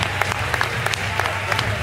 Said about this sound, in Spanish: ¡Oh, ¡aplausos para Gelado y Virus!